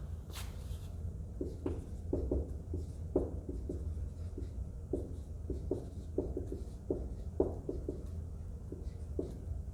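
Pen strokes scratch out chemistry half reactions by hand, a steady run of short taps and scrapes on paper at close range, with no talking.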